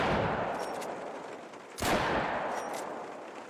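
A Miller 1891 10-gauge shotgun firing in the hunting game theHunter: Call of the Wild, with one loud, sharp blast partway through and a long booming tail and echo both before and after it.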